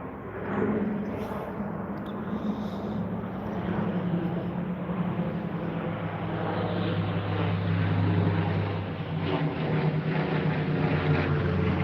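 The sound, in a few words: private jet aircraft flying overhead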